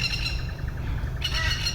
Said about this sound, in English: I hear plovers around